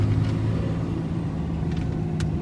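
A 2005 Dodge Ram manual diesel 4x4 truck engine runs with a steady, deep rumbling drone, close by, with faint higher clicks over it.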